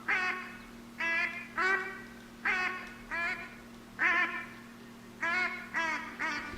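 Duck call sounding in the hunting video game theHunter: Call of the Wild during a Harlequin duck hunt, a series of about nine evenly spaced nasal honking quacks over a steady low hum.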